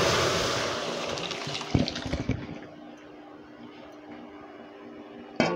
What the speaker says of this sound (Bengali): ডালটা ঢালে দিই